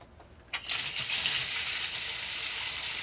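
Water gushes suddenly through a hose on a motorhome, rinsing out old water. It starts with an abrupt surge, then keeps up a steady, loud hiss with no talk over it.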